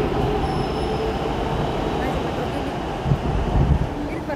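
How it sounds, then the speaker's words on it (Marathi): A metro train at a station rumbles loudly and continuously, with rail noise and a faint wheel squeal, rising toward the end as it moves; a voice speaks briefly beneath it. "सो आता मेट्रो आलेलीच आहे, जाते."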